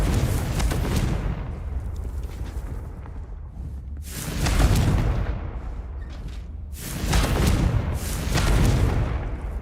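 Repeated fiery blasts of the Confringo spell in the Hogwarts Legacy video game, broad booming explosions that swell and fade at roughly two-to-three-second intervals, loud and close with a continuous rumbling roar between them.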